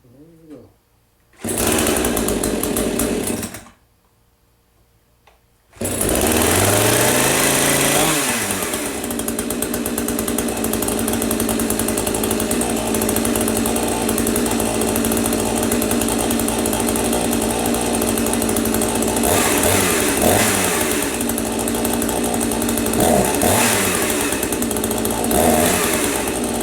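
A leaking chainsaw runs loud and close at a steady, continuous drone after two short starts broken by silence, with a few brief revs and dips in pitch near the end.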